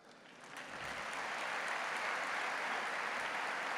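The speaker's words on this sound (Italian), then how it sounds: "Laos, un applauso." Applause from a large audience at a papal audience with the Neocatechumenal Way, swelling in over the first second into a steady, dense, sustained clatter of many hands with no voices on top.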